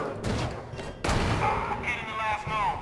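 Gunfire in the Aliens: Colonial Marines shooter, sharp bursts and a heavy blast cutting through a busy game soundscape, mixed with whooshing effects and some voice activity.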